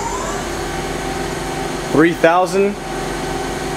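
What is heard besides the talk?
Hyundai Kia SKT15 CNC turning center spindle running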